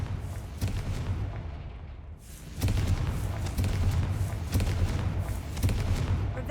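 Confringo blasting spells detonate in Hogwarts Legacy, a string of sharp booming explosions at uneven intervals, each a punchy crack with a rumbling tail, over continuous low battle ambience.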